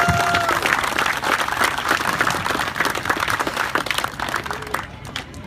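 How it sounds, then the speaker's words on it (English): An outdoor crowd at an inaugural Veterans Day run breaks into loud, sustained applause, a dense wash of clapping that tapers slightly near the end, with a few faint voices underneath. "Let's give him a warm round of applause."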